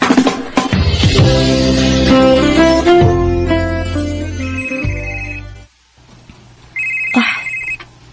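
A telephone rings in a radio drama, sounding repeated electronic ringtone bursts loud and close, first layered over music, then alone after a short silence.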